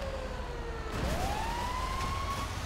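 A fire truck siren in a video game rises in a single sweeping wail and holds steady at a moderate level, with no talk over it.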